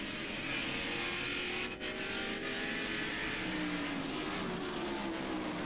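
Onboard a 1990 Chevrolet NASCAR stock car at the Tyson Holly Farms 400, the engine drones loud and steady at high revs, with no talk over it.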